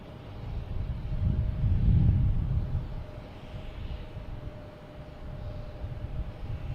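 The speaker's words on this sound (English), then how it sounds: "That's an Air France plane." An Air France airliner at Boston Logan Airport: a deep, broad engine roar that swells to a peak and then eases to a steady distant rumble, with a faint constant tone running underneath.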